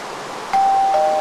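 A two-tone electronic doorbell chime in Minecraft rings once, clear and close, a short ding-dong with sustained tones, alone over quiet background.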